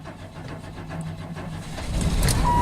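A car engine with a misfire cranks briefly and catches, running rough on five cylinders, a close, uneven rumble that grows louder as it settles into a ragged idle.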